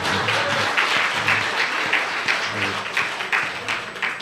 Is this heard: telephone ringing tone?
no